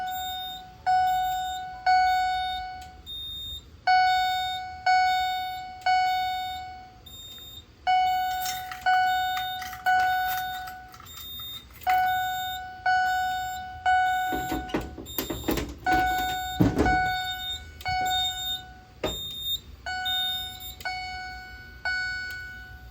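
Fire alarm set off from a SIGA 278 pull station, sounding as a repeating series of sharp electronic tone bursts with regular pauses, joined midway by a brief louder burst of clatter.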